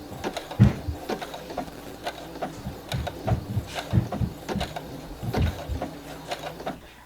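A sewing machine stitches appliqué along a quilt branch for a fall table runner, its needle tapping in short irregular bursts with brief pauses, fairly close and moderately loud.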